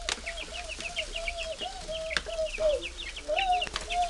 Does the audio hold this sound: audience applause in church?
no